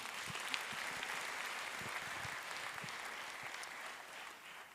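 A church congregation claps in steady, dense applause. It is moderately loud and continuous, then eases slightly toward the end.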